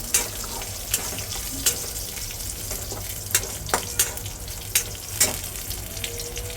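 Green chillies and curry leaves fry in oil for thin poha chivda, giving a steady, close sizzle. Sharp stirring clicks and scrapes recur against the pan every second or so.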